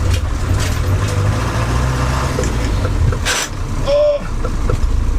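A 60-year-old Land Rover drives along with its engine rumbling low and steady, gear noise and wind mixing in, a brief whine rising near the end, and a voice talking over it.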